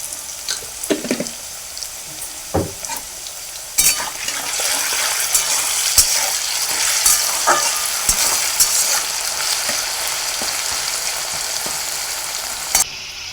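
Potatoes frying in a pan for a vegetarian ghugni, a continuous bright sizzle building after a few early utensil clicks, with occasional stirring taps, close and loud.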